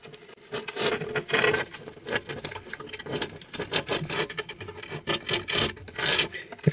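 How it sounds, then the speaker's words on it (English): A razor blade scrapes and peels old aquarium silicone from glass, making close, rough rasping strokes in an uneven rhythm with short pauses and no talking. "take your razor blade and go in this side ever so slightly, just to the cutoff point, and then peel it away"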